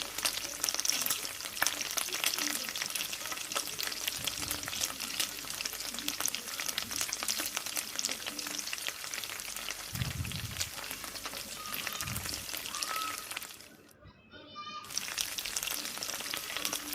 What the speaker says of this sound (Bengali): পেঁয়াজ এবং রসুন ব্রাউন কালার করে ভেজে নিব।